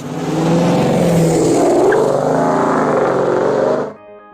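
Dodge 392 Hemi V8 through a Stainless Works catless exhaust roars loud and close as it revs and climbs steadily for about four seconds, then cuts off abruptly into a faint tone.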